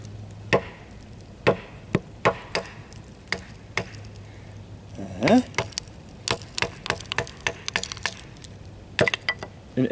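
Sharp, separate strikes of a small hammer on wood, splitting a blank for carving a spoon, a dozen or so uneven knocks with splintering cracks in between, close and clear.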